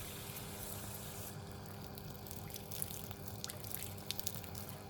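Water runs from a newly installed cabin shower as a steady, close hiss of spray with a few scattered drips and splashes.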